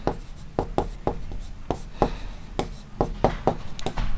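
Chalk or marker strokes on a classroom board during a maths lesson, a rapid series of sharp taps and scratches in an irregular rhythm, close and fairly loud against faint room tone.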